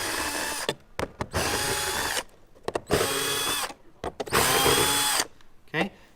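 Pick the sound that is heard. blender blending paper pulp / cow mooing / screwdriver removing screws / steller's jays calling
screwdriver removing screws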